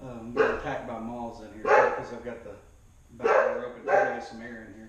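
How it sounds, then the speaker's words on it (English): A dog barks indoors near an open back door, sharp barks recurring in a few bursts beneath someone talking close by. "And my dogs will be barking at somebody."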